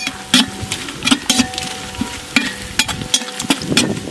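About 900 grams of finely chopped large onions fry to golden brown in a pan for mutton biryani, a steady sizzle broken by quick clinks and scrapes of stirring, close and alone.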